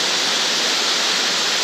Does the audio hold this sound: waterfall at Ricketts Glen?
yes